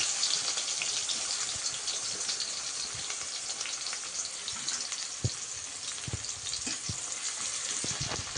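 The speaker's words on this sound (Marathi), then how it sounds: "त्याच्यामध्ये आपण आता कांदा टाकून घेतोय" Chopped onion frying in a pan for a home-style Maharashtrian pea curry, a steady, fairly loud sizzling hiss that runs the whole time with a few sharper crackles and no talking.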